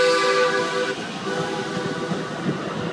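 A DART light rail train sounds its horn, a loud sustained tonal blast with layered pitches that holds for about a second, then gives way to the rumble of the train rolling along the track.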